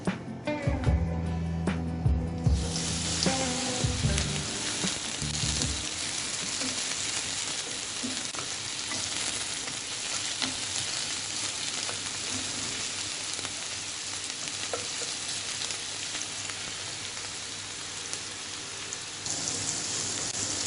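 A brief clatter opens, then chopped onion fries in oil in a pan, a dense, even crackling hiss that carries on without talk.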